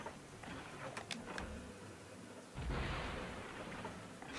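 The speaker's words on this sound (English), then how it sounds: "We got a rocket launcher, guys." A rocket launcher fires in the first-person shooter Turok: Evolution, with a few sharp clicks and pops followed by a loud, roaring blast that rumbles on steadily to the end.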